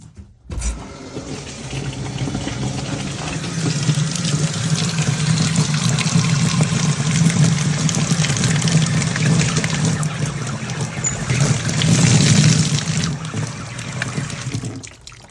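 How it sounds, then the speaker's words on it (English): Water runs steadily from an outdoor hose bibb being tested after replacement, a loud continuous rushing flow that starts abruptly and holds for the whole stretch with no talk. "We're going to shut this off and turn the water on."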